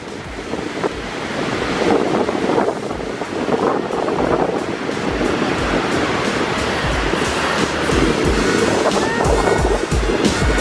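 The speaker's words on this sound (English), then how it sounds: "So windy up here." Strong wind buffeting outdoors on a jungle walk, a loud continuous roar with gusty rumbling throughout and no talk.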